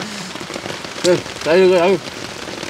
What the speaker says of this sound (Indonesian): Kita mukbang disertai dengan berkah hujan ya.